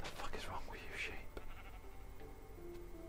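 Sheep in the Minecraft video game bleat in short wavering calls over the first second and a half, heard close under a voice that talks over most of the stretch while other game sounds fill the background.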